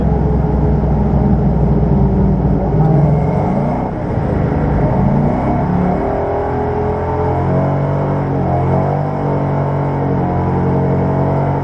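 A Ford Mustang drifting with bursts of throttle, its engine a loud, close, droning roar that rises and falls in pitch, the revs sweeping up sharply near the middle and holding a rough rumble throughout.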